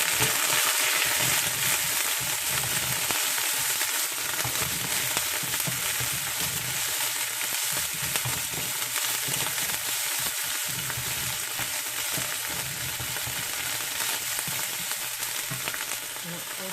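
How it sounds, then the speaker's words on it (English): Garlic and finely chopped lemongrass fry in hot oil for a Vietnamese bun bo hue noodle soup, giving a steady, loud, dense sizzle throughout with faint stirring underneath. "go ahead and fry up the garlic and the lemongrass, the finely chopped lemongrass"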